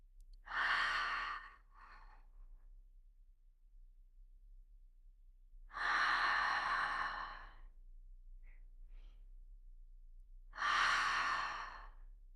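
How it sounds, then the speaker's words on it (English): Three slow, deep breaths with a long gap between each, every one a drawn-in inhale through the nose followed by a fuller exhale through the mouth, close and clear with no talking. "inhaling through your nose, exhaling through your mouth"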